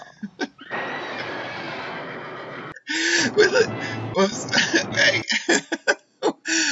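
Horses neigh and whinny from the comedy film Young Frankenstein, a few short, shrill bursts close together, mixed with voice and gasp-like sounds.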